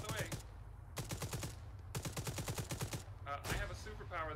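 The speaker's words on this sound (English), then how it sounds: "I can shoot while driving. That's me shooting." Rapid machine-gun bursts from a moving vehicle in the video game Arma 3, three crisp, rhythmic volleys over a low engine drone, with brief muffled voice fragments near the end.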